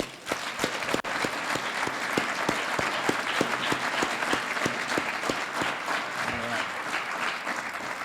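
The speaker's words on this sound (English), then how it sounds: "I think we should give another round of applause for the folks from Sumner." Sustained applause from an outdoor groundbreaking-ceremony audience fills the whole stretch, with a few louder individual claps standing out near the front.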